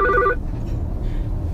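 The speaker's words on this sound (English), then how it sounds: "Sorry, phone rang." A phone rings with a brief electronic trill at the very start, then cuts off, leaving quiet room tone.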